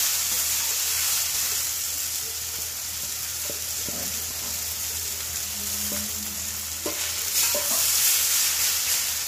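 Garlic and water spinach (kalmi shaak) sizzling in a pan for a Bengali home recipe, a steady frying hiss with occasional scrapes of stirring, close and continuous with no talk.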